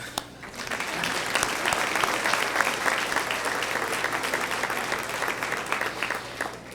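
An audience at an awards breakfast claps steadily and loudly for several seconds, a dense, even wash of applause that tapers slightly at the end.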